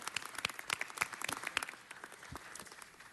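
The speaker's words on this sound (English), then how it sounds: "Give him a round of applause." Audience applause breaks out at a city council meeting, a short burst of many hands clapping that thins out over a few seconds, fairly close.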